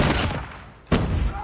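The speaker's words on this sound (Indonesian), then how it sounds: "Ya, kena ledakan." A sudden explosion in Call of Duty Mobile, one sharp blast bursting out after a brief lull amid ongoing game noise and rumbling.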